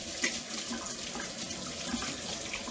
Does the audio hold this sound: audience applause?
no